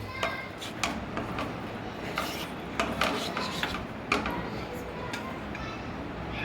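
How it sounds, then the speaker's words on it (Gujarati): Spinach puree for palak paneer being stirred in a pan, with a spoon scraping and tapping against the metal in an irregular rhythm, close by and moderate in level as someone speaks. "હવે આપણે પ્યુરીને સરસ રીતે હલાવી લઈશું"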